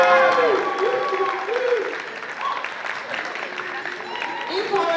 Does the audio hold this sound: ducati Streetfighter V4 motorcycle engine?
no